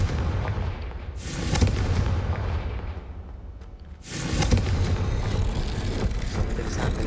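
Confringo spell explosion in the Hogwarts Legacy video game, heard as two heavy booming blasts a few seconds apart, each followed by a loud rumbling roar that slowly fades.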